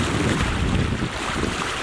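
A sailboat motors across a calm, glassy sea off the southern coast of Spain, giving a steady engine drone and water rush under loud wind buffeting the microphone.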